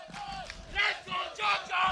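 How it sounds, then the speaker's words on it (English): Loud crowd at a Tekken 7 Masters tournament match, roaring in repeated swelling bursts of cheers and shouts over about two seconds, with no commentary over it. "the crowd's getting loud"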